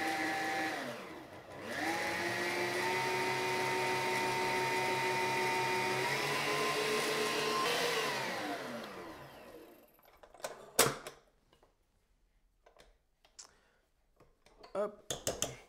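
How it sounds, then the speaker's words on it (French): A stand mixer whips crème mousseline with softened butter, a loud steady motor whine that holds for several seconds, then cuts off and leaves clatters and knocks, with brief talk nearby. "Donc, je vais la monter, rajouter le beurre pommade. Et voilà, on va laisser fouetter tout ça."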